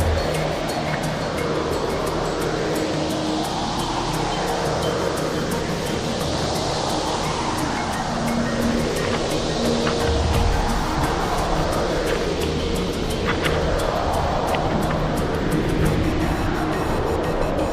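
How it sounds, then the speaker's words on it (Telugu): Wind-driven rain at night, a dense, steady roar of rushing water and gusting wind with slow surging swells, continuous and enveloping throughout. "అర్ధరాత్రి 12 గంటలకు ఒకేసారి గాలితో కూడిన వర్షం వచ్చింది"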